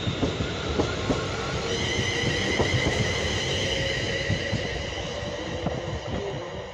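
A Class 380 electric train, unit 380012, pulls away from Newton station on a service to Glasgow Central, giving a steady, loud rumble with rising electric motor whine and wheel noise throughout.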